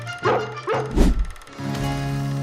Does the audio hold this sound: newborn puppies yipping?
yes